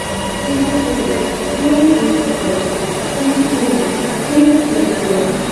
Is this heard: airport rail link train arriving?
yes